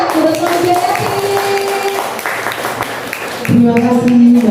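An audience claps in steady applause while voices talk over it and tonal music or sustained pitched sounds run underneath, growing louder near the end.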